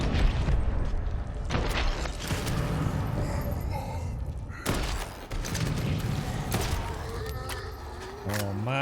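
Mortar fire and explosions in the video game Dead Island 2: repeated booming blasts and mechanical clanks over a dense, busy game soundscape, with a voice talking throughout.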